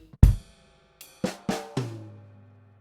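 A short drum fill of about five hits, a deep low stroke followed by quicker tom and snare strikes, the last one ringing out.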